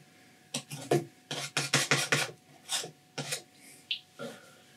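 A painting knife scrapes excess oil paint across a canvas while a mountain landscape with trees is being painted, giving a series of close, rasping strokes in irregular bursts, several quick ones in a row followed by a few slower, fainter drags.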